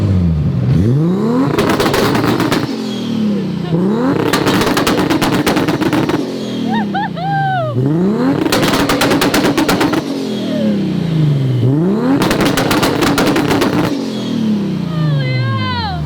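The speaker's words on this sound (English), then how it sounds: "Two-step it, let's hear it." A Nissan R34 Skyline revs on two-step launch control in four loud bursts, each engine rise ending in a rapid crackling machine-gun string of pops and bangs, with people talking between them.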